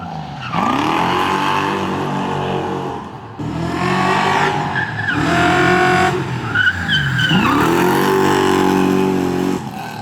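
A Toyota JZX100 Mark II spins with its tires skidding and squealing in long wavering shrieks over a loud revving engine, several separate slides running back to back at close range.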